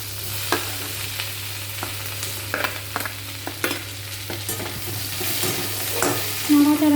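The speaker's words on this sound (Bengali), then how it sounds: "নাড়াচাড়া করে নিলাম তেলের মধ্যে" Chunks of capsicum with onion are stirred and fried in hot oil, giving a steady sizzle broken by repeated sharp scrapes and knocks of a spoon against the pan.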